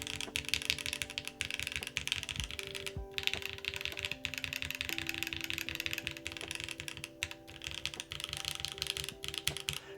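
A QK101 mechanical keyboard's numpad is typed on continuously, giving a dense, even stream of close clacky keystrokes with a slight rattle and no voices over them.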